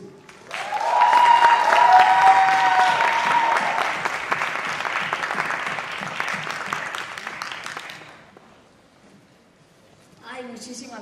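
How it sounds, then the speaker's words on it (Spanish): Loud audience applause at a Mexican music-society event, dense clapping from a crowd swelling then fading away, with a voice speaking over it and a short return of sound near the end. "Les quiero pedir, por favor, un fuerte aplauso para Dulce."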